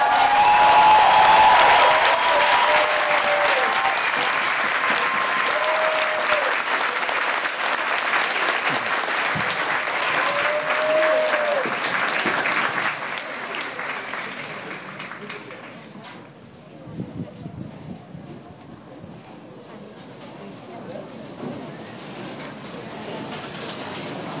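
Crowd applause for newly sworn-in American citizens at an Army family day ceremony at Fort Jackson, loud and sustained for about thirteen seconds before thinning out, with a few bird coos and voices mixed in.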